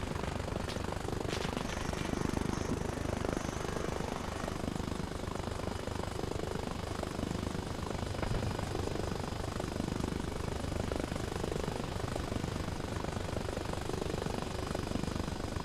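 A helicopter carries troops in the video game Arma Reforger, its rotor thumping in a steady fast rhythm over a loud continuous engine roar from inside the cabin, with no talking.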